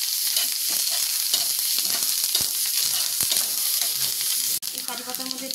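Curry leaves fry in hot mustard oil with a loud, continuous sizzling hiss, broken by a brief clink near the end.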